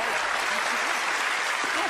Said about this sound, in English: Give Allison a big round of applause.